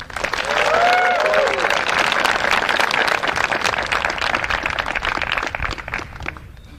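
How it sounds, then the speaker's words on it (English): An outdoor crowd at the Copenhagen Open disc golf tournament in Valbyparken gives a loud round of applause for a player, steady clapping with a few cheers that gradually thins out. "Please give a big round of applause for Jakub Semerad."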